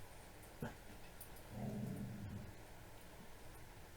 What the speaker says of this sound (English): that's a little creepy because Lily does not bark